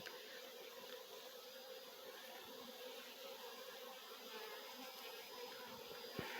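Italian honey bees buzz around an opened hive after smoking, a dense continuous drone of many insects, steady and fairly faint, with a brief knock near the end.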